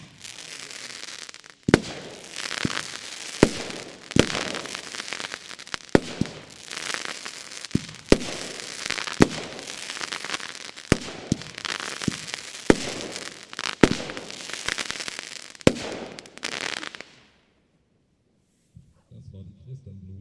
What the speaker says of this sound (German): Knisterblumen von Geisha, die Nummer 39.